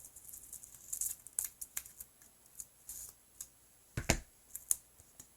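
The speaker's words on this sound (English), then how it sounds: "Grab my bigger scissors because I do need to cut this in half." Large scissors cut a paper card in half, producing a series of crisp snipping clicks at an uneven pace, with one louder, sharper snip near the end, quiet and close with no talking.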